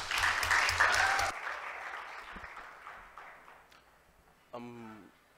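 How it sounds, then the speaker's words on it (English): Loud applause from a crowd opens, fading gradually into scattered clapping before a voice briefly speaks near the end. "So can we give him a round of applause?"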